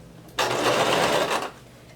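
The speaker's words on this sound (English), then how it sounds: "Go ahead and begin sewing" A sewing machine stitches the seam of a gathered maxi skirt in one short, fast burst, a close, steady mechanical whir starting abruptly and stopping after about a second.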